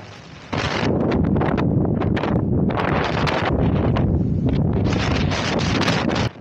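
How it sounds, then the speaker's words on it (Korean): Strong, roaring wind buffets the microphone in steady gusts, loud and close, with no voices, on the Daecheongbong summit of Seoraksan mountain. "잠깐 바람소리 들려드릴게요."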